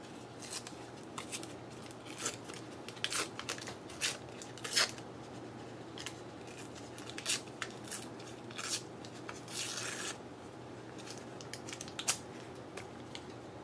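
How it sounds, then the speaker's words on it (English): Scissors trim overhanging tissue paper from the edge of an altered 9x12 envelope journal, giving a series of quiet, irregular snips and crisp paper rustles with no talking. "wherever it hangs off, I'm just going to trim it off"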